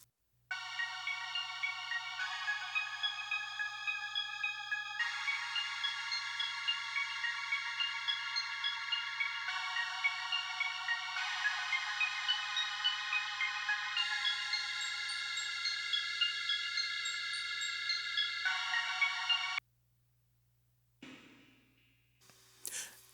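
A synth chord progression played on an Electra X preset in Logic Pro X rings out in bright sustained chords over a low drone for about twenty seconds, then stops, followed by a few faint breaths and small noises.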